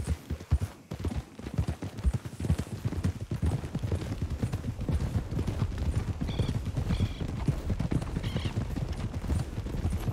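Horse galloping in the Red Dead Redemption video game, a quick rhythmic clip-clop of hooves drumming steadily and close for about ten seconds, with a brief whinny and faint game sounds mixed in.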